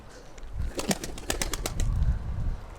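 Pigeons at feeding time in a loft, soft cooing and scattered bird calls with faint wing flaps and pecking, close and steady throughout.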